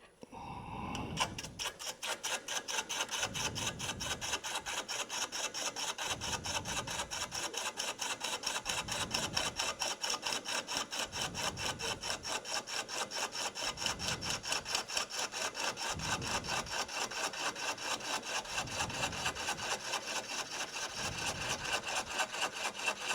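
Wooden platter back being leveled on a lathe, a steady loud scraping hiss of the cutting tool with regular low rhythmic thumps from the spinning blank, continuous and close for the whole stretch.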